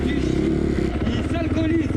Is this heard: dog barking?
no